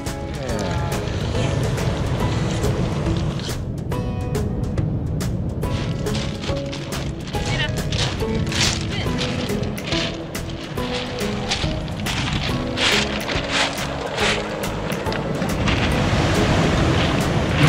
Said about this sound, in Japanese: 波でさ、 石がさ、 ゴロゴロ動いて る